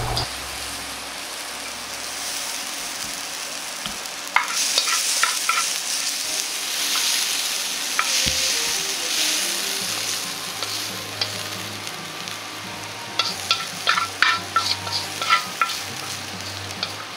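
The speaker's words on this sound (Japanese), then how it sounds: "最後に軽く炒め合わせれば完成です。" Spicy minced meat and cabbage yakisoba stir-fried in a pan, a steady close sizzle with scraping stirs and clatter, busier bursts of tossing near the end.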